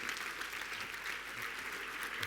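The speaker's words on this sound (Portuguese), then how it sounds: "Senhoras e senhores, o vosso aplauso para Richard Zimmler." An audience at a literary event in Vila Real applauds steadily, a dense, even wash of clapping filling the short stretch without any voices over it.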